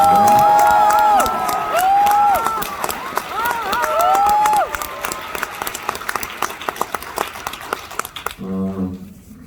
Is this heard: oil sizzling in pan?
no